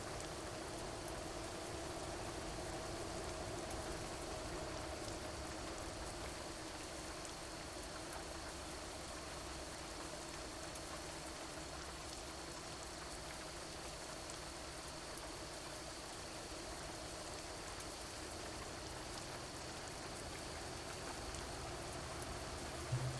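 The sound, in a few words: rain in video game Euro Truck Simulator 2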